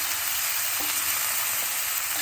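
Salted mushrooms cook in a pan with a close, even hiss of sizzling and a few faint soft clicks, heard alone without speech.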